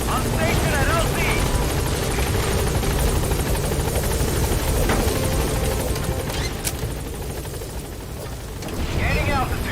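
In the Metal Gear Solid 5 video game, the Pequod helicopter arrives at the landing zone in Africa with a loud, continuous rotor roar and thudding chop, while radio-style voice chatter runs over it.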